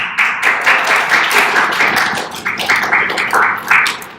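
A group of people claps in steady, rhythmic bursts, loud and close, with repeated clusters of sharp claps and no talking.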